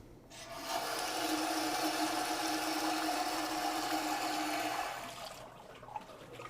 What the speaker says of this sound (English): flush them for 20 minutes in the emergency eye wash. To turn it on, push the handle.